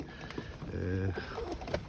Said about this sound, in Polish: hoduję budapesztańskie wysokolotne typu sportowego oraz gołębie pocztowe.